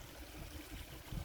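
Pond water drains down a plug hole at the end of a dug trench, swirling in a small whirlpool with a soft, faint, continuous trickling gurgle.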